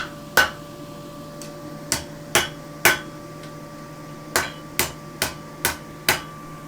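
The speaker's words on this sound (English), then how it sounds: "Because you were hitting it in the right place, but it was just in the wrong place on the anvil" Farrier hammering a horseshoe on an anvil: about ten sharp, ringing metallic strikes in loose groups with short pauses between them, close by and with no talk.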